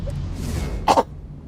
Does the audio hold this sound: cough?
yes